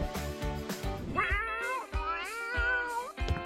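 Several cats meow close by in a series of drawn-out, wavering calls, one after another with short pauses between them. They are heard over a steady low background, with no talk.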